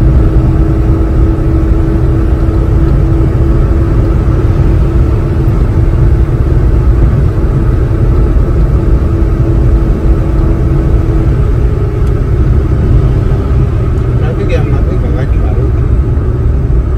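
A 2002 Suzuki Alto engine, converted to a Japanese K6A engine, hums steadily while driving, with road rumble and droning noise throughout, loud and close.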